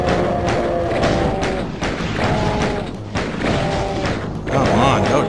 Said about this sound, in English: I'm gonna empty my entire bullet collection on this one guy.